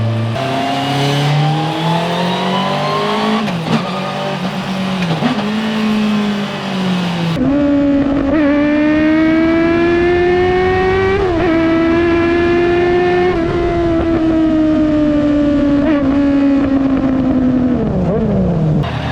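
A Mazda Miata swapped with a Honda CBR 1000RR motorcycle engine drives hard. Its high-pitched engine wails through rising revs and a sharp gear change, and the loud, close engine note holds strong throughout.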